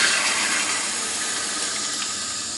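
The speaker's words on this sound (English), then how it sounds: "turn off the water, let it drain out" Running water rinses 4x5 sheet film inside a combi developing tank, a steady close hiss of flowing, splashing water that holds at an even level throughout with no talking.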